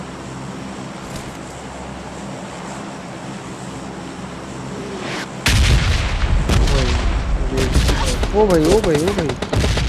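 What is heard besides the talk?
gunfire in PUBG Mobile Lite video game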